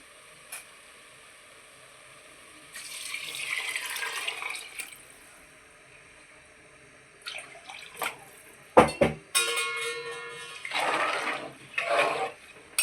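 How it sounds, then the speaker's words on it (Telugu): Four glasses of water are poured into a pot with oil, coriander and two glasses of rice for bagara rice, giving uneven bursts of splashing and gushing, with handling clatter and no talk. "నాలుగు గ్లాసులు వాటర్ పోసుకున్నామండి"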